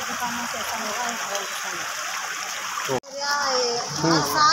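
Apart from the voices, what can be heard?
floodwater flowing through streets after rain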